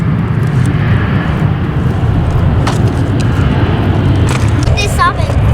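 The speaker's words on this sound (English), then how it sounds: "Whoa, listen to that. It's not even that big of a plane." A fairly small airplane passes overhead at an airport, its loud, steady engine roar filling the whole clip, with people talking nearby.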